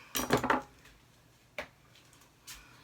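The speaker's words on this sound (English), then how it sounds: "So, let's get to chopping." A knife clatters against a cutting board while onion and carrot are chopped in a home kitchen, a quick cluster of knocks followed by two lone, separate cuts, close and fairly quiet.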